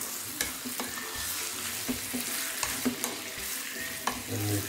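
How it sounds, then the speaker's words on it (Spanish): Raw chicken and onions are stirred together in a pot, with soft sizzling and the repeated scrape and clack of a utensil against the pot in an irregular rhythm, close and moderately loud. "Lo vamos a mezclar bien con las cebollas."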